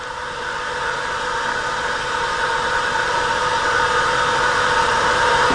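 An ST-270 spin rinse dryer winding down in a test room, giving a steady broadband whir with a high hum that stays even and continuous throughout.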